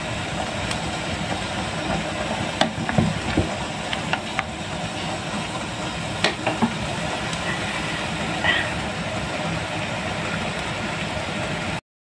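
Meat sautéing with garlic, onion and ginger gives a steady, even hiss that runs unbroken throughout, with a few faint clicks and taps breaking through.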